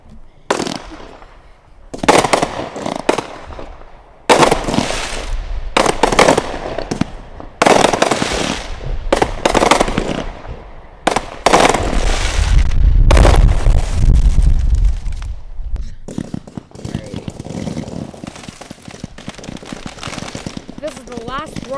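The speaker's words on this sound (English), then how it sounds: "This is the last row of fireworks for tonight." Canada Day fireworks finale: rapid bursts of crackling bangs and booms in dense volleys, loud and close, with a heavy rumbling climax followed by lingering crackle and faint crowd voices.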